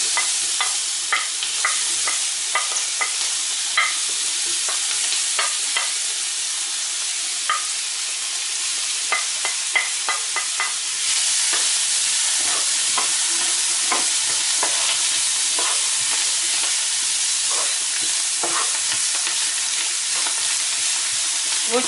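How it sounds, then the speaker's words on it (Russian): Chopped onion sizzling in a pan of browned flour, a steady bright frying hiss throughout with frequent small scrapes and taps of a utensil stirring. "В обжаренную муку отправляю лук."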